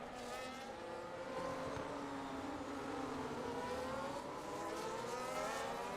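Formula 1 race cars lap the Abu Dhabi Grand Prix circuit in F1 25, a continuous high engine whine rising and falling in pitch as cars run close together.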